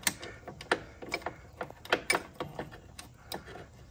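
Half-inch driver tightening a bolt on a Kohler mower engine: a run of short, quick mechanical clicks and ratcheting taps, close and moderately loud, with uneven spacing and no talk.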